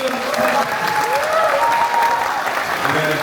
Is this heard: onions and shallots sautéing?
no